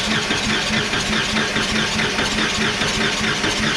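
A 351 Windsor-based 408 stroker engine cranks over on the starter during a compression test on cylinder 6, a loud, rhythmic chugging churn that runs steadily without firing for the whole stretch, alone with no voices.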